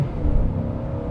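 A 1990s Mercedes S500 W140 V8 sedan pulling hard under full throttle from inside the car, a loud, deep rumbling engine roar sustained for a brief moment.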